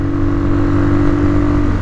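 A Mash 400 Family Side motorcycle engine drones steadily at close range near 6000 rpm while cruising around 100 km/h, a constant buzzing hum with strong vibration and no pauses.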